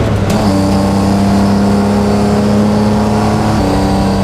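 A loud BMW E36 race car engine, garage built, drones steadily up close on track, holding a high, even pitch with a slight shift near the end.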